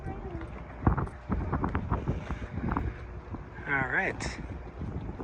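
Gusty wind buffets the microphone outdoors near a river and dam, a rough low rumble throughout, while someone speaks briefly.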